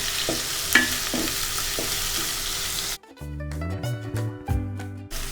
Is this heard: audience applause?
no